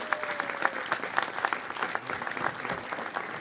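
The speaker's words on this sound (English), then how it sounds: "Please give them a big round of applause." A crowd claps for the opening of the West End Library, a quiet, distant-sounding patter of applause that holds steady for a few seconds with a faint voice underneath.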